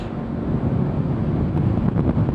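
Wind roars steadily and loudly against a helmet microphone while riding a motorcycle, a dense, unbroken rush with no voices.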